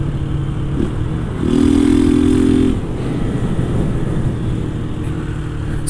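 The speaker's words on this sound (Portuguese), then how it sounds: "E também coloquei aí o escape de lata." Honda Titan 160 motorcycle fitted with an aftermarket can exhaust, idling with a loud, steady engine drone that swells into a brief rev before settling back.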